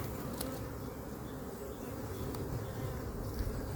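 Honey bees hum densely around an open hive while its honey supers are inspected, a steady close-up drone with no break and no talking.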